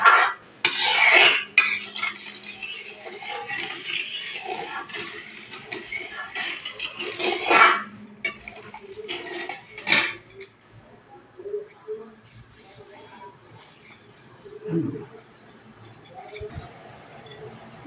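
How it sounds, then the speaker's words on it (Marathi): A spoon clinks and scrapes against a pan while sugar syrup for balushahi is stirred, with repeated metallic knocks early on, then quieter intermittent scraping. "त्याला हलवून घेऊया."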